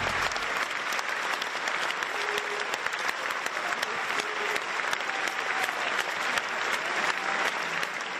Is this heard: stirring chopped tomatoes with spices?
no